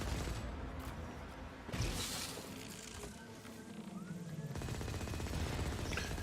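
Weapons fire in the video game Firefall comes as rapid rattling bursts and a heavier impact, with fast automatic shots that continue under steady game ambience.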